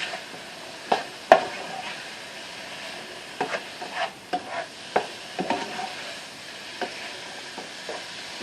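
A spoon stirs shrimp alfredo with onion powder and garlic powder in a pan, giving scattered scraping knocks and clicks at an uneven pace over a soft, constant sizzle.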